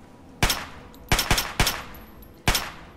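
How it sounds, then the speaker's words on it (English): Four sharp gunshot bursts in Fallout 3 as a player fires on a bloatfly, one single crack followed by a quick double shot, then another single, and a final shot after a pause, each with a short ringing decay. "I'm wasting my ammo right now to kill a bloat fly"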